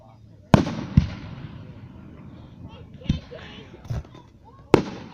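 Fireworks bursting outdoors: four or five sharp, loud bangs spaced irregularly, each with a brief crackling tail, over a steady background murmur with voices talking.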